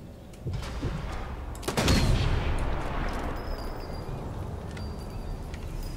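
A heavy artillery gun fires once in Sniper Elite 4 with a loud booming blast, and a long rumbling echo rolls away beneath constant battlefield ambience.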